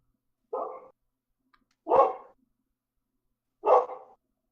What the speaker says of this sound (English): If you hear a dog, that would be my dog.